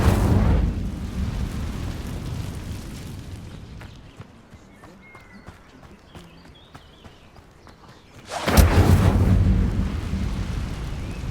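Incendio fire spell cast in Hogwarts Legacy, a loud whooshing burst of flame that fades into quieter game ambience, then a second strong fiery blast near the end.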